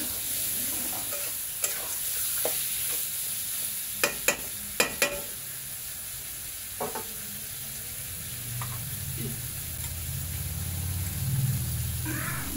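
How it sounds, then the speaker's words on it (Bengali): Mutton sizzles and fries in a pan for mutton and potato curry while a utensil scrapes and stirs it in sharp clicks, with a low frying rumble building toward the end. "মাংসটাকে ভালো করে নেড়ে চেড়ে কষে নেব"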